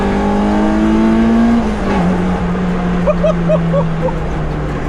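A K20-swapped Honda Civic coupe engine drones loudly at close range from inside the car as it corners, holding a steady pitch that sags slightly as it eases off, with a few faint chirps over the engine.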